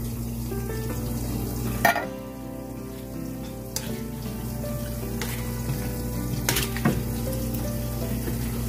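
Potatoes sautéing in butter or margarine for pastel, a soft steady sizzle and crackle throughout with a few sharper clicks and taps from the pan.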